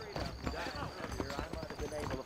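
Horse hooves clip-clopping in Red Dead Redemption, a quick run of close, uneven hoofbeats mixed with other game sounds under a speaking voice.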